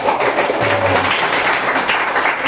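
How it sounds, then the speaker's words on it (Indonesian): Audience applause during a school question-and-answer session at SMKN 2 Sampit, a short burst of scattered clapping from a room of students, fairly close and continuous over a couple of seconds. "tepuk tangan dulu"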